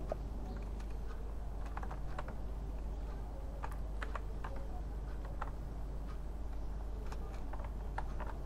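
Steady typing on a computer keyboard while writing text in Microsoft Word, a continuous run of quick, close clicks and key taps over a faint background hum, no voice present.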